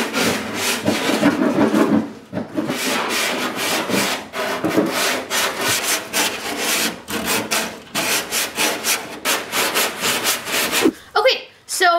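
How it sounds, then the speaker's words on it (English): Hand sanding of rust on the inside of a metal rolling door, with fast, continuous rhythmic scraping strokes, loud and close, and brief pauses around the two-second mark and near the end. "Okay, so now that we have the inside sanded"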